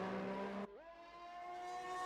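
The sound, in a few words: race car engine during out lap in a Formula 1 video game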